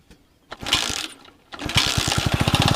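A homemade chainsaw powered by a motorcycle engine sputters, then catches and runs with a rapid, rough mechanical chatter, loud and close, with no speech.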